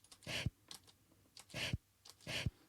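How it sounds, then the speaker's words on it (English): Computer keyboard and mouse clacking during audio editing: three distinct bursts of clicks and keystrokes, each ending in a sharper clack, spaced about a second apart, close and fairly quiet, with no talking. "I know you can hear my clacking of my keyboard and my mouse"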